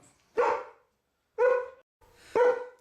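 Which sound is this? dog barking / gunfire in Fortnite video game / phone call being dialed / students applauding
dog barking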